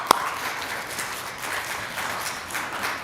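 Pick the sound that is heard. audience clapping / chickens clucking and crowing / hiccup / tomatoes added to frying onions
audience clapping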